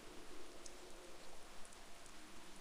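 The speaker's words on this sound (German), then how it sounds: "Oh, direkt wieder Regen." Rain in the online golf game Shot Online, a faint, steady patter of falling drops with soft hiss, quiet and continuous with no talk.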